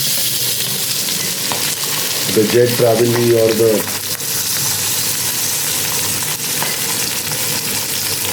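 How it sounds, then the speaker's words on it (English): Steady loud sizzling of fish (cobia, or black kingfish) frying in hot oil in a pan, close up, with someone speaking briefly over it. "as the pan is been sizzling hot in the oil, there we let in the fish directly onto the pan"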